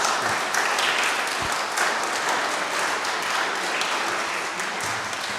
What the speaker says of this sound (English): So can we give a round of applause?